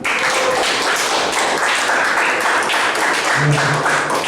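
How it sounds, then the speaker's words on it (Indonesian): Classroom audience applauding a student group after their presentation, a steady dense patter of hand claps filling the whole stretch at close range, with no speech over it. "Mari sama-sama kita ulang memberikan aplaus"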